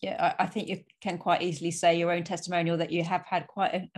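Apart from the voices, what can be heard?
No everyday noise stands out behind the speech.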